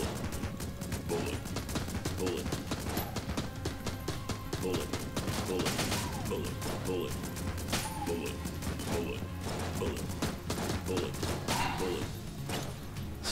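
Dense, nonstop gunfire and explosive bursts from the dungeon-crawler game Enter the Gungeon, rapid overlapping shots and crashes with a continuous busy mix of game effects.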